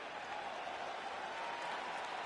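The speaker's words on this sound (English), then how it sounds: "This crowd is going sick after what they saw in that previous round." A crowd in a UFC video game cheers in a steady, dense roar, a continuous wash of distant applause and voices with no individual words standing out.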